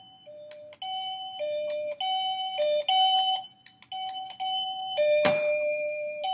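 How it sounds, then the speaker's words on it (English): A SadoTech CXRi wireless doorbell plays a clear electronic melodic chime, bright tones stepping through a short tune, loud and close, with brief pauses between phrases and no talking. "how to change your doorbell's chime"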